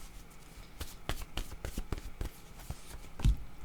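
Tarot cards are shuffled and drawn by hand close up, giving a run of quick, soft riffling snaps and light taps at low volume, ending in one firmer thump, with no talk.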